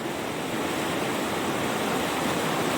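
A creek flows steadily in the Badger Creek Wilderness of Oregon, a broad, continuous rushing wash of water heard alone with no voices.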